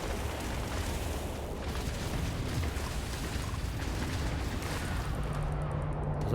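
Spaceship guns firing in the Starfield video game make a dense, continuous roaring barrage of booming bursts that holds steady and loud throughout, with no talking over it.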